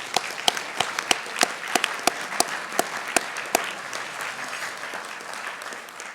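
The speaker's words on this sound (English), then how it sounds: "if you join me in giving all of them a round of applause" An audience at a Federalist Society luncheon panel applauds, a dense sustained round of clapping with sharp individual claps standing out, gradually thinning toward the end.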